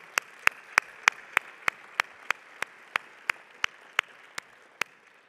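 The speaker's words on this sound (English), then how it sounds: "Let's give them a round of applause." A single, steady round of handclaps at a national business conference for Hispanic chambers of commerce, about fifteen crisp claps evenly spaced and fairly near, with a quiet room behind them.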